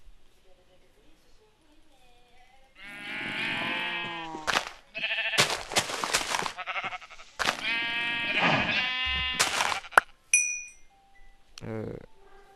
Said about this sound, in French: Mouton, mouton.